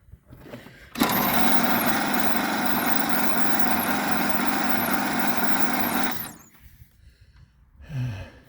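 A 1927 Pirsch fire truck engine, first start in 29 years, runs loud and steady with the throttle cracked open, then cuts off abruptly, leaving quiet with a brief rumble near the end.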